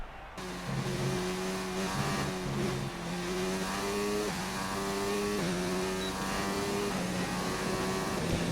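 A McLaren Formula 1 car at Hockenheim in the F1 2019 video game screams through its engine, the pitch climbing in repeated revving sweeps as it shifts up through gears, loud and continuous with no voices.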